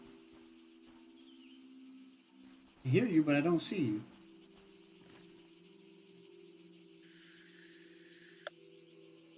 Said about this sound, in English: The buzz of a cicada.